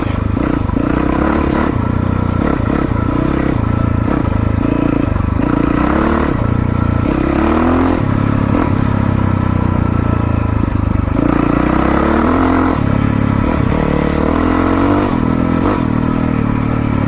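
A Yamaha WR450F dirt bike runs after heavy maintenance, its engine loud and close with a continuous rough drone rising and falling as it revs and rides, plus rattling clatter, no voices heard.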